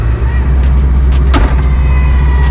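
A rally car with no insulation idles and drives, a loud, close, steady engine rumble from the cabin, with a short clunk or rattle partway through.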